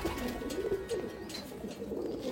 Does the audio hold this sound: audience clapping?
no